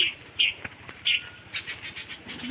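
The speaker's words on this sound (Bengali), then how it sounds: "কেমন করতেছে পাখিগুলো" Birds near a nest with a chick give short, repeated high chirps, several bursts spaced irregularly and then a quicker run of calls, fairly close and clear against a quiet background.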